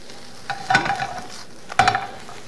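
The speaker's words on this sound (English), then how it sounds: "I'm going to stir in my greens and onions, as well as a sprinkling of dill." A utensil stirs greens, onions and dill into scrambled eggs with lox in a pan, making two short bursts of scraping and soft sizzle against a quiet background, with no talking.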